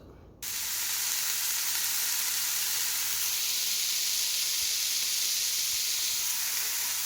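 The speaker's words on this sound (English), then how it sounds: "Listen to that sizzle of all that tofu deliciousness." Tofu hits a hot pan with a sudden loud sizzle that settles into a steady, close frying hiss with faint crackles.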